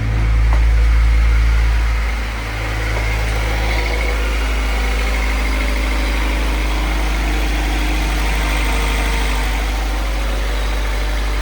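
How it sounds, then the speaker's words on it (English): A 1992 Honda Civic hatchback engine with a new distributor idles steadily with a deep rumble and constant mechanical hum, close by, after a brief revving swell at the start; no talking. "that's idling so much better than it did with the old distributor"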